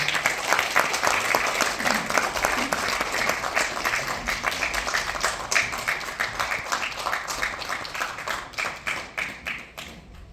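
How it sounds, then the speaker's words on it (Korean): A concert-hall audience at a poetry concert in a Daejeon cultural centre applauds to welcome a speaker, a dense, steady patter of many hands that holds strong for about ten seconds and then thins slightly toward the end. "사랑의 박수로 맞아주시기 바랍니다"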